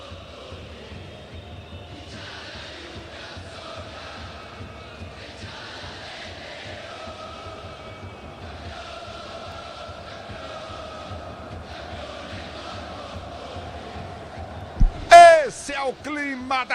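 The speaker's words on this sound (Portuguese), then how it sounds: "Torcida do River cantando" River Plate supporters singing in the Monumental stadium during a Libertadores quarter-final, a far, massed chant rising and falling in waves, with a commentator talking over it and a sharp burst of noise near the end.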